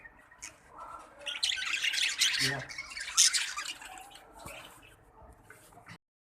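Budgerigars kept as exhibition birds squawk and chatter in shrill bursts close by, with a few sharp calls standing out, while people talk quietly underneath.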